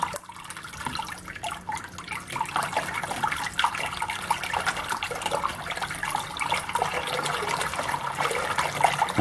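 A coolant pump splashes water inside an acrylic setup, producing a continuous wet, churning splash with crackling droplets that grows slightly more vigorous over time, close and steady without any voices.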